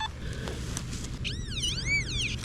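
A Nokta Simplex+ metal detector in a park sounds a warbling electronic signal tone, rising and falling in pitch twice over a faint background hum.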